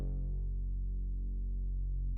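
A sustained sub bass note drenched in full reverb rumbles deep and loud for about two seconds in an electronic dance track, ending with a short click.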